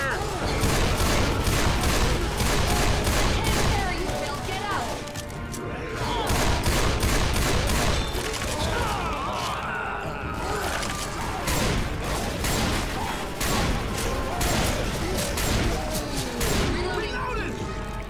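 Dense, continuous gunfire from the video game Left 4 Dead 2, rapid overlapping shots and booms forming a near-constant fusillade for the whole stretch, with voices shouting over the shooting.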